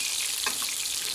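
A seared Scottish salmon fillet sizzles in a hot oiled pan as it is basted, giving a steady close hiss with a brief splashing flare midway.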